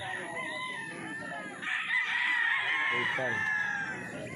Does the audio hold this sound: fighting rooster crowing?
yes